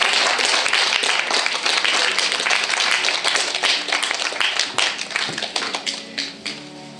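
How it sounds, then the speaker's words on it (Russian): Wedding guests applaud during a civil marriage ceremony, many hands clapping briskly at close range, then thinning out and fading toward the end. "Друзья мои, давайте аплодисменты поддержим этот волнительный момент."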